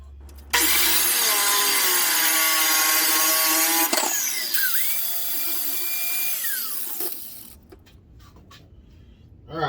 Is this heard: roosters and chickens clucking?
no